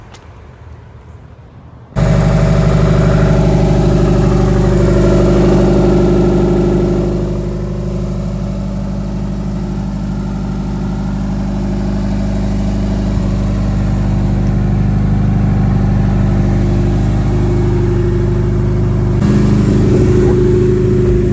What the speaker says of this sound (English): We're getting in this 800 something horsepower Porsche.